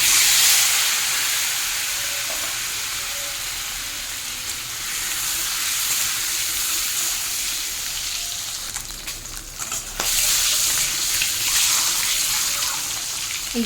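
Eggs frying in hot mustard oil with salt and turmeric in a wok, a continuous loud hiss and sizzle that fades slightly midway, then surges again with crackling bursts.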